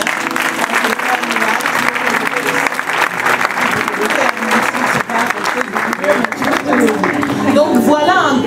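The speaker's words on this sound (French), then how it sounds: "On peut acclamer le Seigneur." A church congregation applauds in a sustained, loud burst of clapping that carries through to the end, with voices and cheering mixed into the crowd noise.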